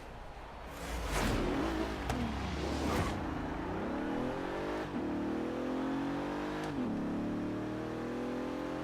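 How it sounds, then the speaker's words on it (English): Bentley in Forza Horizon 3 launching hard off the line in a Rivals event: a loud, steady engine roar climbs in pitch through rising gear sweeps, with brief dips at shifts, continuous and close throughout. "here we are ready to take the Bentley out for a little ride"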